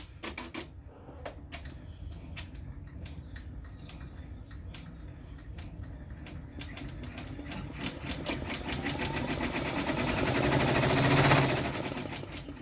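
An embroidery machine stitches the guide line for an in-hoop face mask in rapid, even needle strikes, a steady mechanical chatter that grows louder and busier toward the end before easing off.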